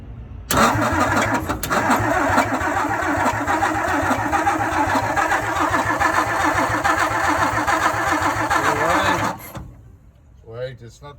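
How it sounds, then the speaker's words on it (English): The engine of a 1961 Ford F500 truck, fitted with new wiring and fuel lines, cranks steadily and loudly for about nine seconds without catching, then stops, leaving a faint voice afterward. "Alright, F500 attempt at starting."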